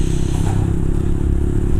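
Motorcycle on a test ride on the road up to Malino, a steady close engine drone mixed with wind buffeting and rattle, loud and continuous with no talk.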